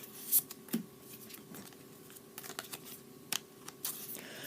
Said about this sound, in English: First, let me sleeve up the cards.